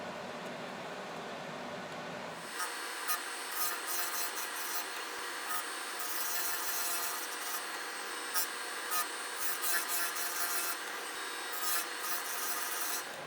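A chainsaw chain is sharpened on a Harbor Freight electric chainsaw sharpener, starting with a hum, then a grinding wheel rasping against the teeth in repeated short bursts over a steady motor drone, close and fairly loud, with no talking.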